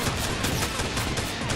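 Rapid, dense bursts of gunfire crackle almost without pause, loud and close, with shots overlapping in a continuous volley.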